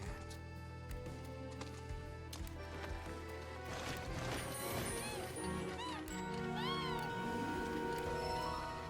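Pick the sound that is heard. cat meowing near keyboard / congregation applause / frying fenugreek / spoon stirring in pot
cat meowing near keyboard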